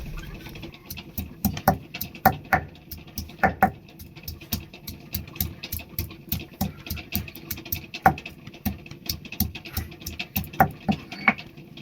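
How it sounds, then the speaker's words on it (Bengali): Ginger being ground into paste by hand, a close, rhythmic series of scraping and knocking strokes that repeat steadily and evenly throughout, with no talking. "আমি আদাটা বেটে নিচ্ছি।"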